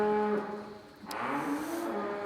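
A cow on a farm lets out a long, low moo that rises and wavers in pitch, moderately close and alone against quiet surroundings.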